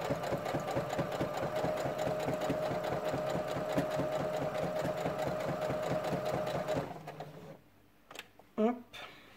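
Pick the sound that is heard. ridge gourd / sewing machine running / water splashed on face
sewing machine running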